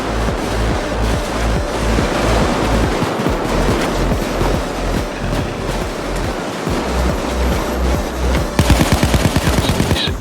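M16 rifle gunfire in Payday 2 on Xbox One, loud rapid bursts of automatic shots in steady rhythm over a constant roaring background, ending with a closer, sharper burst.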